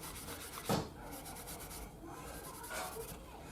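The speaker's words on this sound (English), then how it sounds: "we're going over the frets with that steel wool, getting them nice and shiny" Steel wool rubbed over guitar frets and the wooden fingerboard of a Squier Jazzmaster, a soft, close, continuous scratchy scrubbing in quick back-and-forth strokes.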